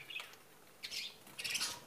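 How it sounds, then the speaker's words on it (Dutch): Birds at a home give a few short bright chirps and squawks, separate bursts over a quiet background, soft and fairly close. "Misschien horen jullie het al, maar we hebben ook vogels."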